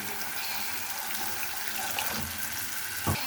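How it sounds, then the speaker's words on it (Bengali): Water pours into a cooking pan for fish curry in a home kitchen, a steady close splashing stream that runs throughout with a brief louder splash near the end. "এখন আমি ঝোলের জন্য সামান্য একটু পানি দিয়ে দিব"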